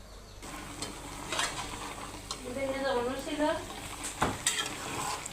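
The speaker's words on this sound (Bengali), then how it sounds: "এখন আমরা কষাচ্ছি লাউটা" Bottle gourd is sautéed in a pan for a katla fish dish, with a low sizzle, scattered spatula scrapes and clinks, and a brief tonal whine partway through.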